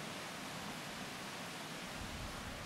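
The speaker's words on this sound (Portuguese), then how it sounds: "Dá para tirar uma siesta ouvindo a cachoeira, o riozinho que passa aqui atrás." A waterfall and a small stream run behind a lodge at a private nature reserve in the Serra dos Topázios, a steady, even rush of water heard at a moderate distance and unbroken throughout.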